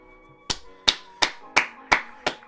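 Six sharp hand claps at a slow, even pace ring out close and distinct after a 200-metre high school sprint race, with a faint murmur in the background between them.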